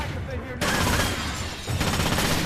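Rapid automatic gunfire in the stealth shooter Splinter Cell: Conviction, dense bursts rattling continuously with a brief lull midway before resuming, loud and close.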